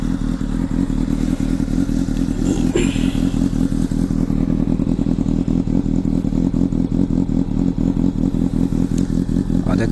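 A Honda CBR600RR fitted with a Liovin exhaust accelerates hard on board, its high-revving engine screaming loudly and steadily throughout with a continuous dense roar.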